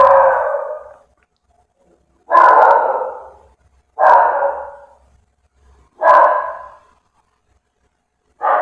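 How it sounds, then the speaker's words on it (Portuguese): A dog barks four or five times at spaced intervals, each bark loud and drawn out, with quiet gaps between. "o meu cachorro começou a latir"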